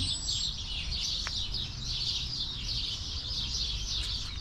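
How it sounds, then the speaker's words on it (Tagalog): Dusk birdsong in a New Zealand backyard: a crowd of birds keeps up a busy, high, twittering chorus that runs without a break, fairly near and steady. "Dami ibon."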